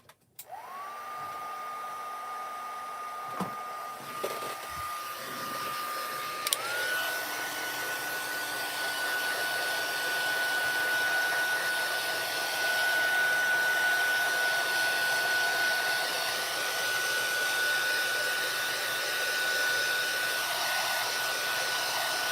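A handheld heat tool blows steadily for over twenty seconds to heat set ink on foiled cards, a constant whooshing airflow with a faint high whine, after a brief bump and click near the start.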